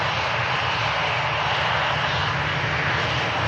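British Airways Airbus A320neo at an airport, its jet engines producing a steady, loud, broadband roar heard alone without any voices.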